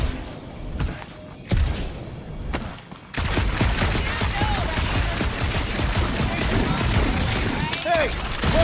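Rapid bursts of gunfire from shooting in the Guardians of the Galaxy video game on PS5, loud and dense, running steadily over most of the clip after a quieter start with brief whooshes and thumps.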